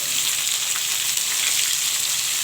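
Carrots and potatoes sizzle steadily in a frying pan, a continuous close hiss with no voices over it.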